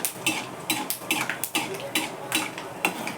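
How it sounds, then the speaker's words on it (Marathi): Peanuts are stirred in a pan while roasting, producing a quick series of dry metallic scrapes and clinks, close and fairly loud, in an irregular rhythm. "थोडेसे शेंगदाणे भाजून घेते म्हणजे तळून घेते"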